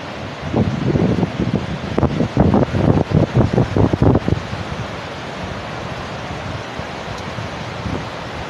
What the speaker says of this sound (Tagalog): Napakalakas, grabe yung alon.